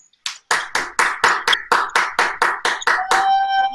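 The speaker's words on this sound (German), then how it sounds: "Applaus." Sharp, evenly spaced hand claps, about a dozen in a quick steady rhythm, close and loud, marking the end of a round in a team darts competition show.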